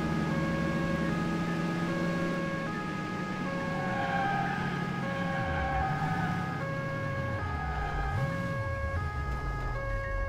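A police car siren from the video game Alarm für Cobra 11 – Highway Nights wails continuously in a looping two-tone pattern. A rumbling car engine with swooping pitch shifts runs underneath.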